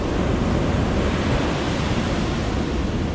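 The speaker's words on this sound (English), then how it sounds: "So I'll pour it into here." Water pouring steadily from a bottle into a container outdoors on an island, a continuous loud splashing rush with no pauses.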